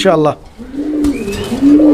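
Soft, low pigeon coos murmur close by, following a brief burst of voice at the start.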